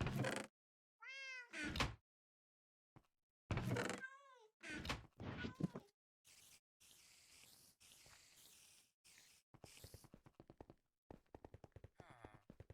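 A house cat gives several sharp, rising meows near the start, then thuds and clatter follow, with broadband noise bursts later on. The cat sounds close and no one talks over it.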